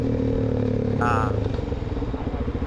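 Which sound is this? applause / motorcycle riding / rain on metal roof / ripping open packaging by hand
motorcycle riding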